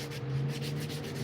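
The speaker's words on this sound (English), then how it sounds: "I'm going to sand those fibers out" Walnut wood being sanded by hand while still wet, a close, continuous scratchy rubbing with no pauses.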